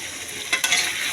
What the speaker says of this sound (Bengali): হালকা করে একটু ভাজা করছি